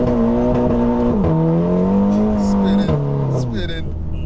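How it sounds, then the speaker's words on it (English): Volkswagen Scirocco R with a Revo stage 2 plus tune launching on a wet road, engine droning loud and close with its pitch rising and dipping as the wheels spin, while a person talks over it. "A lot of wheel spin."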